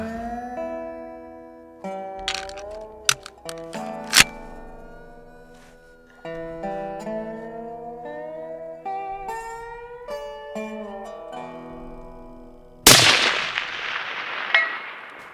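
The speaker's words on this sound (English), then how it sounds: "held the wrong wind and sent the bullet through the camera" A rifle shot sends a bullet through a camera: one sharp, loud crack near the end with a metallic clang that rings and fades. It follows a long stretch of sustained musical tones.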